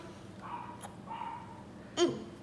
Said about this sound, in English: Listen to our dog. He's barking.